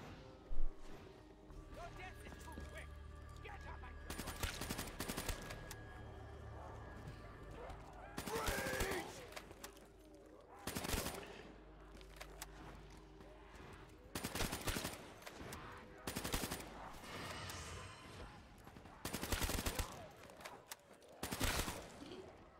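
An RPK light machine gun fires in a video game: several short, loud bursts of automatic fire spaced a few seconds apart, with quieter background game noise between them.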